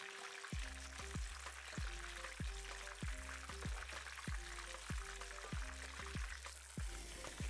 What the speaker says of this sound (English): if I bathe this fish in the hot oil, it'll be extra crispy